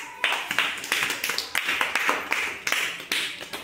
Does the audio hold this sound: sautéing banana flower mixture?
no